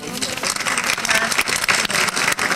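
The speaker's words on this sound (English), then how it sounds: "Please join me in applauding Dr. Johnson" An audience applauds Dr. Johnson as he is introduced at a formal ceremony, the dense, steady clapping from a large crowd filling the room without pause.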